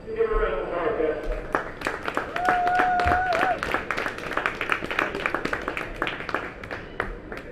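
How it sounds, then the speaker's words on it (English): Audience clapping for a kart racer at an indoor raceway, a dense patter of many hands lasting several seconds, with a voice speaking over the start and a whistle-like tone briefly cutting through. "Give her a round of applause"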